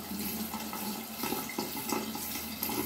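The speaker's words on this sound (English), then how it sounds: "Okay, so we're gonna get some water." Tap water runs into a small baby bottle, a steady close gurgling rush with faint splashes, continuous and alone without talk.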